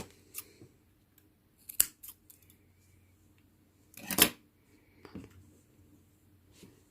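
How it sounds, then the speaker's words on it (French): Scissors snip crochet yarn in a quiet room, a few sharp, close clicks scattered among faint handling noises, with the loudest cut standing out near the end. "Je vais couper le fil."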